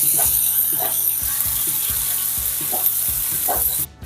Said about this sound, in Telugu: ఒక స్పూన్ అల్లం పేస్ట్ వేస్తున్నానండి ఈ అల్లం పేస్ట్ కొంచెం పచ్చివాసం పోయే వరకు వేసుకుందాం